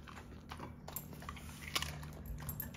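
A dog chews raw vegetables such as cucumber, broccoli, celery and carrot, giving faint, close crunching and biting sounds in irregular bursts over a quiet background.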